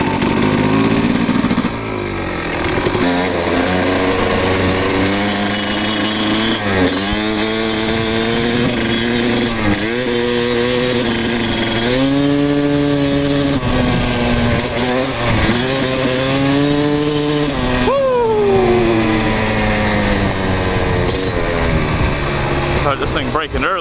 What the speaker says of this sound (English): I mean, this bike really hauls ass.